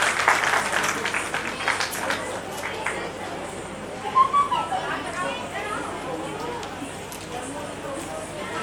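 Applause from an audience at a Sawan Mahotsava dance and music event, a dense steady clatter of clapping strongest at the start and thinning a little, with crowd murmur underneath throughout.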